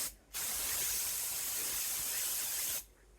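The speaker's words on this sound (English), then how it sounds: "I'm going to spray this, put a cookie sheet right here." A single sustained burst of aerosol cooking spray onto a cookie sheet hisses for about two and a half seconds, close and steady, with quiet pauses before and after.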